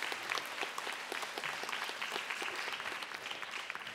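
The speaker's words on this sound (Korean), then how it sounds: "박수 부탁드리겠습니다." An audience claps at the 2024 Jeju-language children's song festival: soft, even applause with scattered individual claps that runs steadily throughout, heard from a slight distance.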